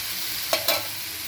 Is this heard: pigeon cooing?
no